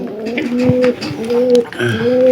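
Pigeons coo in a pigeon loft, a run of low, rolling calls that repeat and overlap for a couple of seconds, close and fairly loud, with soft rustling behind.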